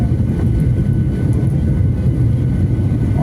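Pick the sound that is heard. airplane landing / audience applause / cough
airplane landing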